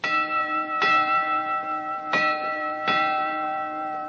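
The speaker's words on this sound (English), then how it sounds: "Go ahead, ring the bell." A bell struck as a radio comedy sound effect rings out in three distinct strikes with long resonant decays, clear and close with no talk over it.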